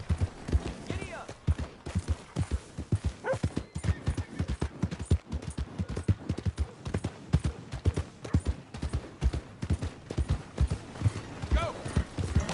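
Horse galloping in Red Dead Redemption 2, rapid rhythmic hoofbeats pounding steadily throughout, close and prominent, with a voice briefly calling out over them.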